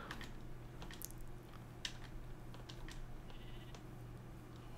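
Sheep bleating in a modded Minecraft (All the Mods 4) village, faint brief bleats and soft clicks scattered over a quiet steady hum.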